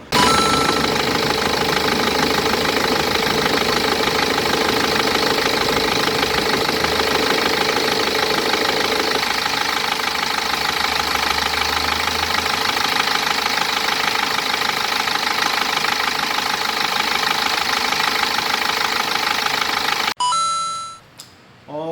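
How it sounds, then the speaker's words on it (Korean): A BMW 520d F10 diesel engine idles after its damper pulley was replaced, making a steady, close mechanical rumble with a light ticking rattle, running alone without talk until it cuts off near the end. "지금 이제 조립이 다 끝나고 그 다음에 저거 시동을 걸었더니 지금 괜찮아요"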